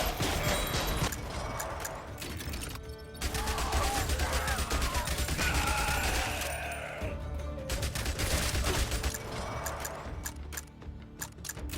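Rapid pistol and SMG gunfire in a zombie survivors video game, dense ticking bursts of shots layered over game effects and music, continuous and fairly quiet throughout.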